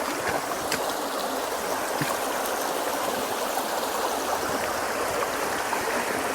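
A small, unfished mountain stream tumbles over broken pocket water in a continuous, close, even rush and babble, with no voices over it.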